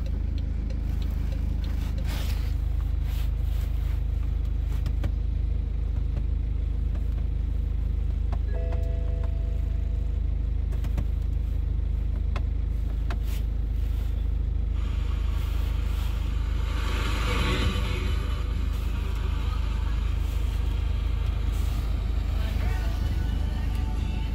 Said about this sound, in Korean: BMW 520D 엑스드라이브 폐차 시동 영상 끝.